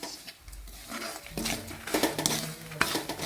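A wooden or metal spoon works continuously through a dried-coconut theeyal mixture in a pan, giving irregular soft scrapes and light clinks against the pan that grow busier and louder partway through.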